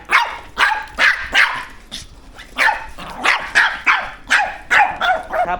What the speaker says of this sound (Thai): เห็นไหมเห่าเราสังเกตนะเขาจะหันหาคุณ